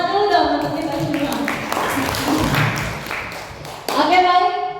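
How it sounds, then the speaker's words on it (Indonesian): An audience at a school event claps together in a burst of scattered applause that fills the middle stretch, with voices speaking just before and after. "Tepuk tangan dulu dong untuk kita semua."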